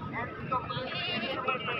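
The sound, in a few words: goat bleating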